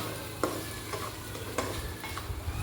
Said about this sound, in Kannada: ಸೊ ಚೆನ್ನಾಗಿ ನೀವು ಫ್ರೈ ಮಾಡಿ